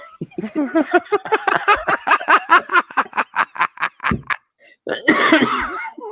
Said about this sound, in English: Cough it up, mate.